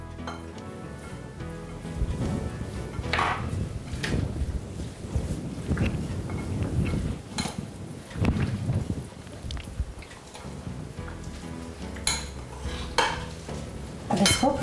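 Egg being stirred into a shikampuri kebab mixture in a bowl, a steady run of clinking, scraping spoon strokes with irregular louder knocks, close and continuous.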